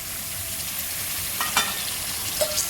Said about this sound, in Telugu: ఇప్పుడు టమాటాలు వేసేద్దాం